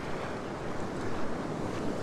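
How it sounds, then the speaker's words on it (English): Ocean surf washes steadily over rocks on the Currumbin shoreline in Queensland, a continuous close rush of breaking water with wind buffeting the microphone. "Really like waves running over the rocks."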